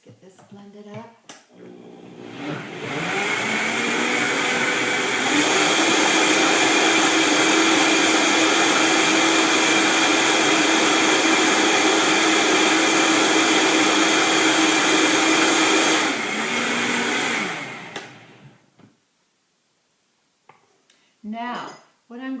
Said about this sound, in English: Let's get this blended up.